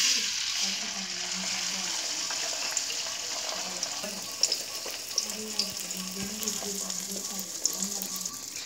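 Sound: egg with turmeric frying in hot oil on high flame

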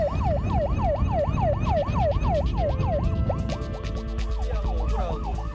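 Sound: fire engine siren

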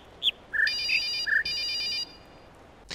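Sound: telephone ringing

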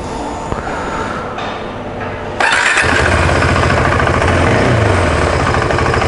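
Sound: KTM Adventure 390 motorcycle engine idling

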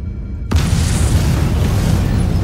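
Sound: antimatter charge explosion aboard ship in video game Halo

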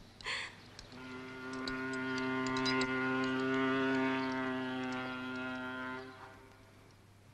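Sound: steamship horn

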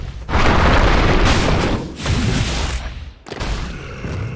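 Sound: tower under attack in Dota 2 video game

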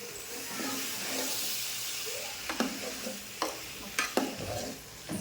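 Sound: stirring food frying in a pan

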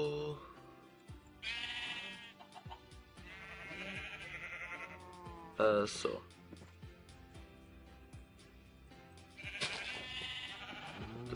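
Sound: sheep bleating in a video game

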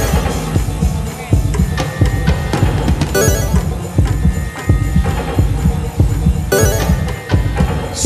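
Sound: heartbeat sound effect

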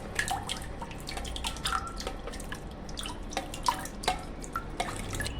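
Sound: churning curd and water into buttermilk

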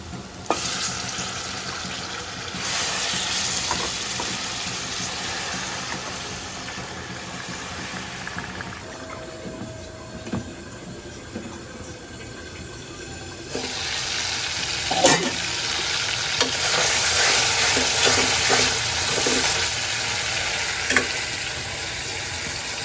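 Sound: small cut fish being fried bhuna style in pan

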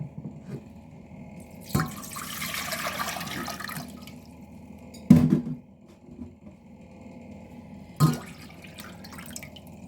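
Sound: water poured into pot for smoked mackerel

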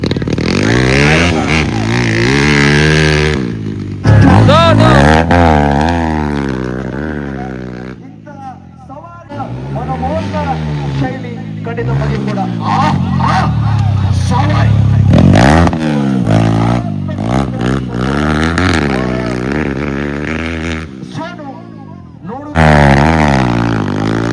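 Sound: motorcycles racing and revving at a village bike race

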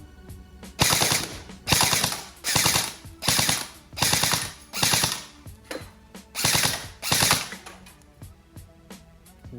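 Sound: electric airsoft BB gun firing on full auto

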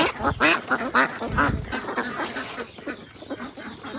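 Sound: ducks quacking

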